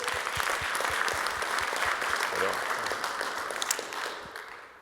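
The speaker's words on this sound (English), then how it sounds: "let's give them a round of applause" An audience at a tech conference session applauds the presenters with steady, dense clapping throughout, gradually tapering off at the end, with faint voices underneath.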